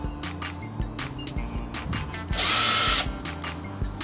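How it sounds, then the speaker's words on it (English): A power drill whirs in a short loud burst lasting under a second, amid knocking and shuffling workshop noises. "a drill."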